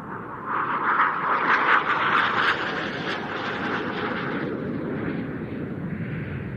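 An Italian Air Force M-346 (T-346) jet trainer flying at an air show, a broad roaring jet rumble that swells and then holds steady, moderately distant, with no talking.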